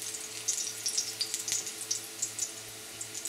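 Small pieces of garlic sauté in a pan with a crackling, popping sizzle of sharp spits over a low steady hiss, heard up close. No one talks.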